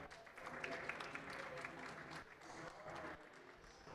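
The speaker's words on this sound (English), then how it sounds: "So please give her a round of applause." Conference audience applauds the keynote speaker, the Norwegian Minister for International Development, at a climate finance event, with continuous clapping that holds steady and eases slightly toward the end.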